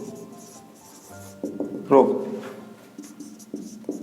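Marker or chalk writing on a board during a Class 10 maths lesson on triangles, short strokes and rubs over about four seconds with a teacher's voice speaking over it.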